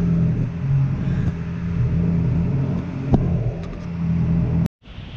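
A BMW S1000RR motorcycle engine, tuned to about 200 wheel horsepower, roars steadily at high revs on a dyno, loud and close, then cuts off abruptly before a quieter idle returns.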